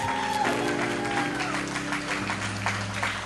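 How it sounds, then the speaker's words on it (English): Applause from a church congregation at a Church of God in Christ service, a broad wash of clapping under a held organ or music chord and some voices, steady throughout. "And give our mature people a big round of applause."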